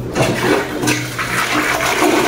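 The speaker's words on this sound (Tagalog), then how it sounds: "Sobrang lakas ng daloy ng tubig mga master. Yan. Lakas mag-flush." A household toilet bowl flushes hard with a strong, rushing flow of water, loud and close, surging steadily through the whole stretch after a newly finished plumbing installation.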